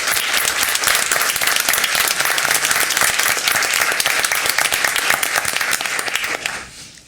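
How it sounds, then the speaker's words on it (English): Audience applause at a school board meeting, a dense, steady burst of clapping from a roomful of people lasting several seconds before tapering off at the end. "One more round of applause."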